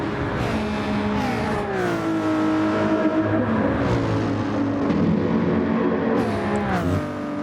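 A Mercedes AMG race car in a sim-racing event at Spa-Francorchamps drones with a loud, steady engine note that rises and falls through gear changes, with faint tire noise from other cars around it and no talking.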